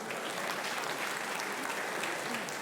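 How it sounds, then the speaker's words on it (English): A crowd applauds steadily, a dense wash of many hands clapping at an even level throughout, with no voices standing out. "Wanna clap for me now?"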